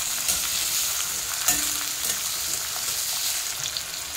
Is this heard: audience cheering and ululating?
no